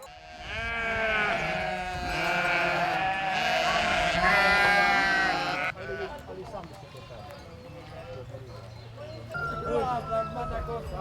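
A flock of sheep bleats loudly and repeatedly at the fold entrance in a Romanian village during a milk-measuring gathering, with overlapping calls close by, hoof clatter and livestock bustle, easing later as people talk.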